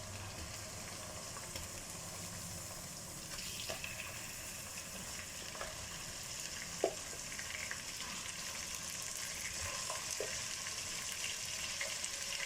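Chicken fries in a pan for deghi chicken korma, a faint, even sizzle with a few soft stirring knocks.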